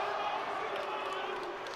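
Arena crowd at a Big Ten college wrestling dual, Illinois at Wisconsin, letting out a steady rumble of disapproving murmurs and boos that carries at an even level across the whole moment with no distinct individual shouts.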